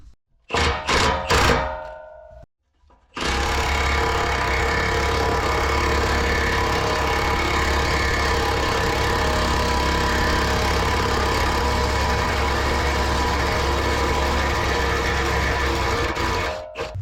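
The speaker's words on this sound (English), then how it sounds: "Rust is no match for the big Milwaukee gun." A big Milwaukee impact gun hammers away at rusty bolts on an old boat trailer axle. A few short bursts are followed by a long, loud, steady rattling run that cuts off at the end.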